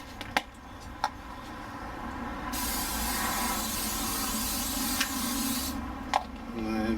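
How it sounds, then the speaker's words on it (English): Cooking spray oil hisses onto a burger grill in one sustained, close spray lasting a few seconds, framed by a few light clicks before and after. "Our spray oil."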